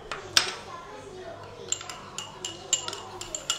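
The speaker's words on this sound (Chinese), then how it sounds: "搅拌它。" Bibimbap sauce with sesame stirred in a bowl, a spoon giving repeated light clinks and taps against the bowl in a quick uneven rhythm, close and clear, with faint voices in the background.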